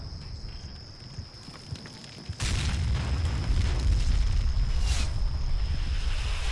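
After a quiet stretch, an artillery blast booms suddenly in the video game Combat Mission Shock Force 2, followed by a sustained heavy rumble and a second burst a few seconds later.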